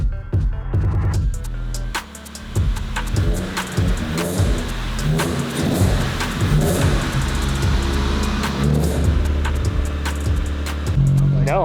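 A Toyota AE86 driving and accelerating, its mid-pitched engine note rising and falling through repeated revs, loud and close with road and wind noise throughout.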